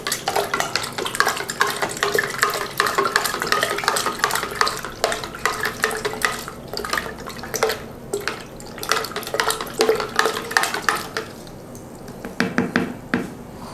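Homemade fabric softener liquid with glycerin added, being stirred in a container: a continuous close scraping and clinking stir with small splashy knocks, no voices.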